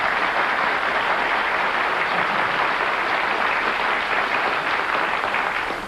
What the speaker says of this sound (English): despite the crazy applause from this audience